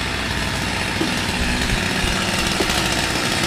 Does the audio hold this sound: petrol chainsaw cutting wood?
yes